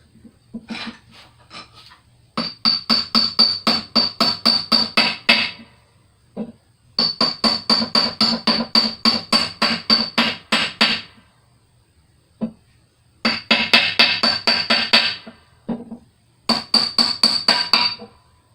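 Screwdriver or chisel tapped with a hammer around the edges of a seal during an F150 transfer case rebuild: rapid bursts of sharp metallic strikes, each run lasting a few seconds, separated by short silent pauses.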